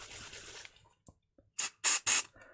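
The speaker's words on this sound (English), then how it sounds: "Spray a little bit of furniture polish" Furniture polish hisses from a spray can in three short, loud close bursts after a softer initial spritz, with faint clicks between.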